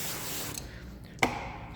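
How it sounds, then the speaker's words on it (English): A spray bottle mists the front door window of a Kia Telluride during window tinting, a soft hiss followed by a sharper close spritz, with no talking. "spray down our window"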